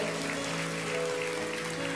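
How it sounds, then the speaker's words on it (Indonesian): A church congregation claps in a dense, continuous wash over sustained keyboard tones, steady and moderately loud throughout. "Berikan tepuk tangan untuk Tuhan Yesus."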